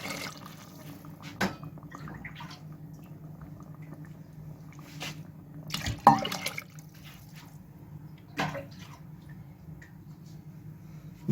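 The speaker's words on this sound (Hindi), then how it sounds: "अब इसमें मैं पानी डाल रहा हूँ" Water is poured into a pot of beef karahi gosht, giving faint, scattered splashes and drips over a quiet background, with a few louder sloshes.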